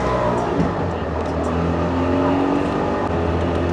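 A two-stroke Trabant engine runs loudly and steadily up close, a dense buzzing drone that fills the whole stretch.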